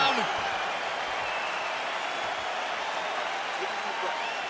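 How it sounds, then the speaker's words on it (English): A UFC arena crowd applauds and cheers in a steady, broad wash of sound after a round ends, with commentators talking over it. "So the crowd voicing its appreciation after that round."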